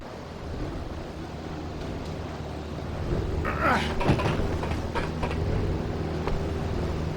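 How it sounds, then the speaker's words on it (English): Airship propellers spinning at full speed with cold wind sweeping across the roof in an Indiana Jones video game, a steady rushing roar that swells louder partway through, with faint mechanical clanks. "With the propellers running at full speed, it was real cold and real windy."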